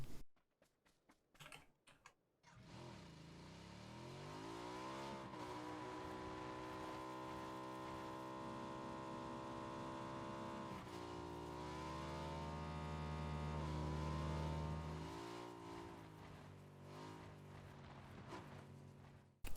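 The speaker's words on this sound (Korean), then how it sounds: "오토바이를 질주하고 있는데 소리가 끊긴다거나 뭉개지는 불편함이 전혀 없죠?" Engine of a motorcycle in a video game revs and sweeps up and down in pitch continuously, with steady gear-like harmonic slides and a loud sustained drone after a few brief clicks at the start.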